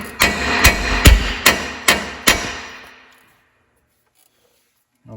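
Six sharp, evenly spaced hammer blows ring out against the tie rod on a 1500 Silverado during a ball joint and control arm job, loud and close, then fade into silence.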